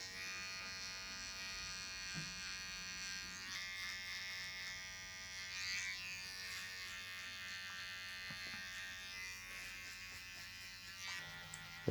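Electric hair clippers buzzing steadily at a barber's as they trim neck hair along the hairline, a faint continuous hum with small shifts in pitch as the blade moves.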